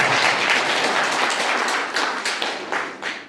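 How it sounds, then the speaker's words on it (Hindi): Loud audience applause at a political rally, a dense burst of many hands clapping that stays strong and then thins slightly toward the end. "जोरदार तालियां बजाकर।"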